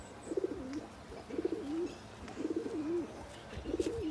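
Pigeon cooing in a rhythmic series of four soft, rolling coos spaced about a second apart, fairly close, with light background rustle and no talk.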